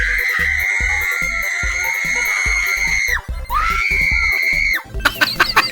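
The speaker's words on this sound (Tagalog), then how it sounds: "Grabe sigaw naman niya." A woman screams in fear at a mouse, a long, piercing, sustained shriek that breaks off, resumes in a second loud wail, then trails into shorter squeals and clattering noise.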